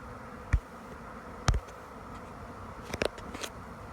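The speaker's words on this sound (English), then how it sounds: "Big cluster on the bottom left-hand corner might be the queen with the bees all clustering around her." A swarm of bees settling into a hive box in the late afternoon gives a faint, steady buzzing hum, with a few brief knocks and taps standing out above it.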